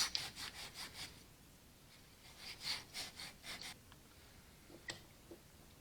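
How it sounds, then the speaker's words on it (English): Scotch-Brite pad scrubbing surface rust off the shaft of an Allis Chalmers WD45 hydraulic pump, a run of quick rhythmic rasping strokes close by, fading to a few scattered rubs and small clicks at the end. "Some surface rust on the shaft where that outer seal goes, so I'm going to take the scratch brite pad and get that cleaned off"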